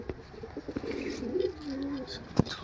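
Male pigeons of an old flying line coo in soft, low throaty phrases, close by, with faint clicks and handling noises around them and no talk over them.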